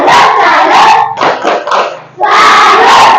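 A classroom group bursts into loud applause and cheering, a dense burst of clapping and voices, a brief dip, then a second strong wave of clapping and shouts.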